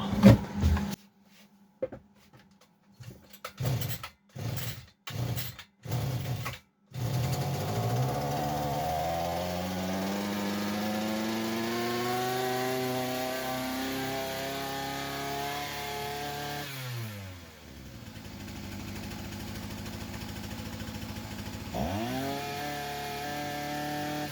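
A Kitprom petrol brush cutter with a starting fault is pulled several times in quick succession on open choke and full throttle, then catches and runs with a loud, wavering revving whine, dips briefly and revs up again.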